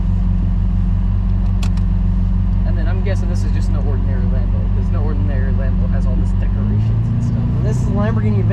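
A Lamborghini Aventador SV engine rumbles steadily at idle with a deep, constant drone. Partway through, the drone rises in pitch, and people talk over it the whole time.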